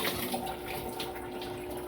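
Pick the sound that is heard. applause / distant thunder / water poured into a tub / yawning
water poured into a tub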